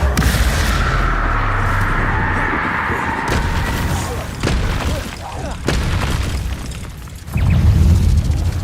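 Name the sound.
spell explosions in the video game Hogwarts Legacy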